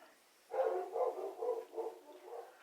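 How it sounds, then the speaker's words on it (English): Several dogs bark in a quick, muffled run of about five overlapping yaps indoors at moderate distance, with no voices. "There goes my dogs."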